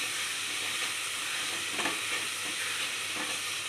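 Cauliflower 65 biryani masala fries in a pan as chilli powder goes in, giving a loud, steady sizzle with a couple of faint stirring scrapes and no voices.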